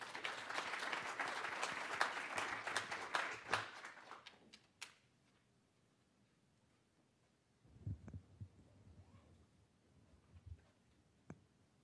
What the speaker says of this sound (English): Let's give a round of applause for Dr. Pencina.